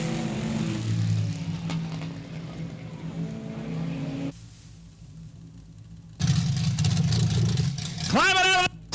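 A race car engine at South Texas Speedway idles roughly after the checkered flag, with a steady low rumble and an announcer talking over it. It dips to quiet for a moment, then the idle returns loud and a revving whine rises at the end.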